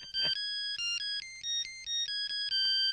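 Mobile phone ringtone plays a repeating electronic melody of bright stepped tones, steady and fairly quiet, with no one speaking over it.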